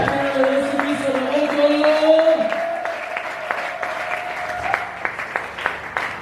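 A church congregation bursts into sustained applause and cheering at a sermon, a dense wash of clapping that thins into scattered claps near the end, with voices mixed in.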